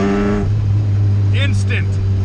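Car engine fitted with a Jackson Racing supercharger and a small pulley, floored from about 2,200 RPM: a loud, close drone that jumps in pitch as the throttle opens, then holds a steady roar with whine and chirps on top.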